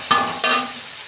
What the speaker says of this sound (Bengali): এইবার আমি ভালো করে তেল ছাড়া পর্যন্ত কষাবো এটা।